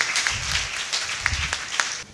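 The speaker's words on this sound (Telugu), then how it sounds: "వారిని గట్టిగా చప్పట్లతో అభినందన తెలియజేద్దాం." An audience at a church feast and anniversary celebration in Godavarru applauds the donors with a short, dense round of clapping, sharp individual claps standing out over the crowd.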